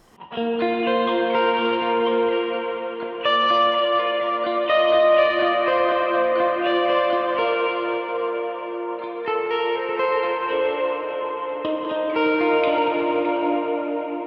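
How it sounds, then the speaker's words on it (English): An electric guitar runs through a huge reverb from a MercuryX pedal, its sustained, layered chords washing and blooming into long, dense tails that overlap continuously with no voice over them. "This huge reverb thing here."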